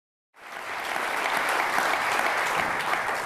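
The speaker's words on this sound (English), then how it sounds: "We will still accept all the applause." Audience applause fills a hall at a writers' talk, starting abruptly and holding steady as a dense, sustained wash of clapping with no voices over it.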